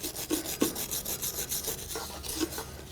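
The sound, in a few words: wire brush scrubbing rust off a wheel bearing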